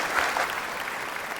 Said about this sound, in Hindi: एक बार फिर से जोरदार ताली में स्वागत कर दीजिए।